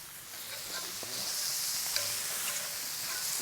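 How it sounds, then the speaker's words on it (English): Crumbled chorizo patties frying on a hot grill as they are broken apart, giving a steady soft sizzle with occasional scraping and stirring, close and moderately quiet. "And now I'm actually breaking up our little chorizo patties."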